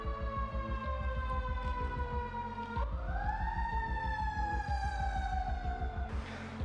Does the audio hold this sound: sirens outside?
yes